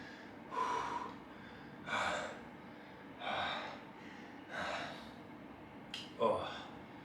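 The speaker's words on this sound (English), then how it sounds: "Getting out of breath a little bit." Heavy, ragged breaths after a set of 105 push-ups, five or six loud gasping exhales spaced about a second apart, close to the listener with no other sound between them.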